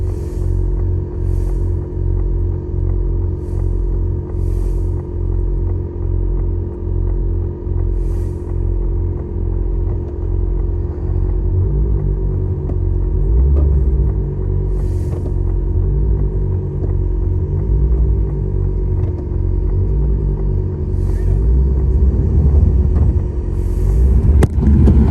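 A car with a popped air suspension and a damaged Pandem body kit creeps along slowly, giving a steady low rumble and engine hum with occasional scraping knocks, close and continuous throughout.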